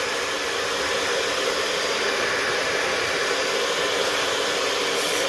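A hair dryer blows with a constant, even rushing hiss during hair styling, loud and close with no pauses or talk.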